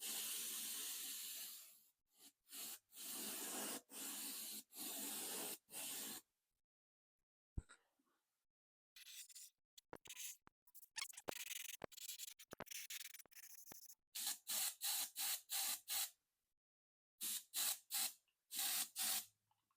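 Spray gun laying thin clear coats over primer on a 1976 Monarch, a series of steady hissing bursts a few seconds each, separated by short silences and some quick taps.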